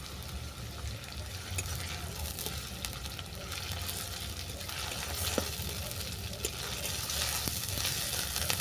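Onion with ginger garlic paste fries in a pan, giving a steady, moderately loud crackling sizzle that builds slightly over time, with scattered small pops and no speech.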